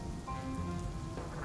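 Steady rain falls as a sound effect in an audio drama set in a city at night, a dense, even patter on surfaces with a faint low rumble underneath and no voices.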